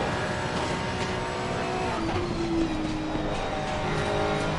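A loud, continuous race car engine roar with a high revving whine in a racing video game at the Nürburgring Nordschleife, steady throughout, no voices.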